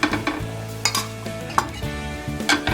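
Makki roti roasting with ghee on a hot tawa griddle, a close steady sizzle broken by several sharp scraping and tapping knocks of a spatula against the metal, no voices.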